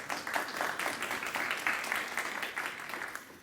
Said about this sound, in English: That applause should be to the council member